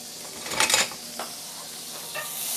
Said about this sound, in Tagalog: And you hear the sizzle.